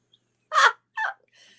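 Backyard pet chickens give three short, close calls separated by brief pauses, the first loudest and the last thinner and softer.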